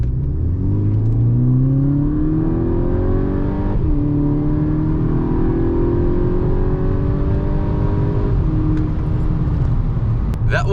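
A VW Golf GTI on its stock exhaust pulls hard through the gears, a loud, close engine note climbing in pitch, dropping at each shift, then climbing again over a steady roar of road and wind.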